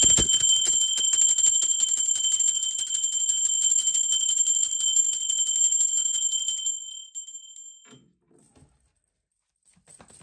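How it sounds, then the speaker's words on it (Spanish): A bright bell rings with a shimmering, sustained metallic tone for several seconds, then cuts off, leaving near silence with a few soft rustles. "Ahora sí, va campana."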